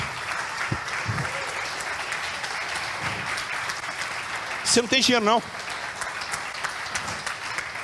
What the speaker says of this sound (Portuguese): Deus merece uma salva de palmas, irmãos.